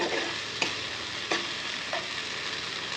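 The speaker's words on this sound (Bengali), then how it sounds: "মশলাটা ভালো করে কষিয়ে নেব" Spice paste for a fish-head curry sizzles steadily in an oily pan, with three sharp scrapes of a spoon stirring it at roughly even intervals, close and alone.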